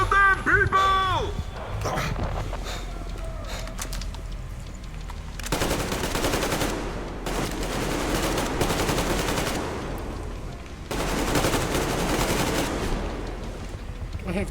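Sustained automatic gunfire from a Metro Exodus battle against rioters, loud dense bursts at close range with a shouted command early on, then waves of rapid rattling fire swelling and easing.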